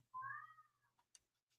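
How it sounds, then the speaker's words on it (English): A cat meows once in the background, a single drawn-out rising-and-falling call, faint and somewhat distant, followed by a few soft clicks and rustles. "I can hear the cat in the background."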